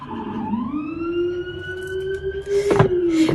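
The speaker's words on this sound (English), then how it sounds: "Please excuse the sirens." Emergency vehicle siren wailing outside on a busy New York street, a sliding tone that rises and holds, moderately loud and somewhat distant, with a sharp knock-like transient near the end and no talking.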